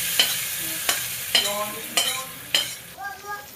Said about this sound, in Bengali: সর্ষে ফোড়ন দিলাম শুকনো লঙ্কা ফোড়ন দিলাম কারি পাতা ফোড়ন দিলাম